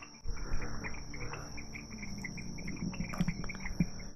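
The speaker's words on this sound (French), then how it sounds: "On entend les petites grenouilles, là-bas, les petits oiseaux, seulement les sons de la forêt." Forest ambience beside a Venezuelan lagoon, with a steady high insect-like drone from small frogs and scattered faint chirps of little birds, continuous and fairly quiet with no talk.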